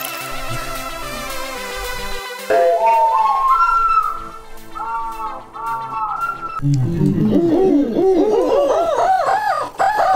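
An organ built from owl garden ornaments plays a tune in hooting, whistle-like pitched tones, with a sliding, wavering melody and layered notes rising in clusters, loud and close.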